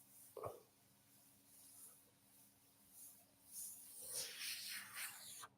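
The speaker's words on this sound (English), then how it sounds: "oh my God, the airbrush is going beautiful today" An airbrush spraying paint gives faint, soft hissing bursts, an early puff and then a longer stretch of airy spray near the end, with no voices.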